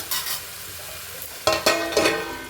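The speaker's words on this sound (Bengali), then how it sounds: "এটাকে একটু চাপা দিয়ে দিয়ে ভাজবো যাতে চট করে এটা ভাজা হয়ে যায়" Potatoes and beans fried in oil in a pan, sizzling steadily while a utensil scrapes and stirs in a few sharp strokes, close and clear with no talking.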